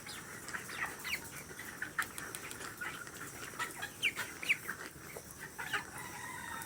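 A flock of chickens on a poultry farm cluck and chatter continuously at moderate distance, with overlapping calls and occasional louder squawks over a steady background hum.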